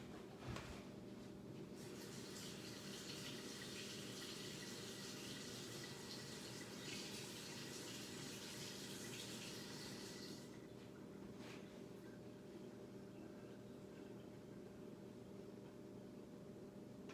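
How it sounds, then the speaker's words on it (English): A paint brush is rinsed under a steady stream of running tap water while making soap, with the flow continuous and fairly loud for about ten seconds before easing into a softer trickle. "let me rinse my brush"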